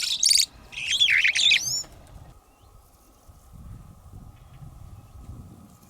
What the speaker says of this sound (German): Beeindruckend ist auch die Vogelwelt in diesem Schutzgebiet, die den Besucher stets auch akustisch im gesamten Park begleitet.